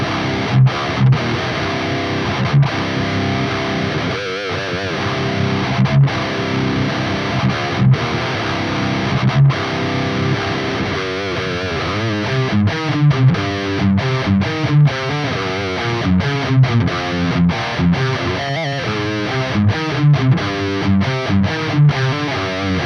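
Heavy distorted electric guitar through a Soldano SLO-100 preset on a Neural DSP Quad Cortex, played on an 1980s ESP M1 Custom in standard C tuning: dense chugging riffs with sharp palm-muted stops and sustained chords, loud and continuous with no talking.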